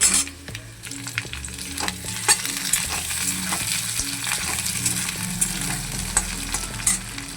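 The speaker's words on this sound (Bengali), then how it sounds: "আলুগুলো মোটামুটি ভাজা হয়ে গেছে" Potatoes and onion fry in oil with five-spice tempering in a kadai, crackling and sizzling loudly up close while a spoon stirs and scrapes at intervals, with no voices.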